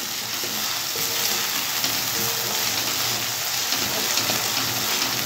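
Poppy seed and mustard paste frying in a pan for a brinjal fritter dish, a steady close sizzle with soft stirring scrapes throughout.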